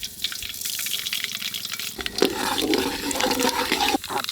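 Mustard seeds sizzle and crackle in hot sesame oil in a village kitchen, a steady frying hiss that swells louder partway through, with bright popping over it.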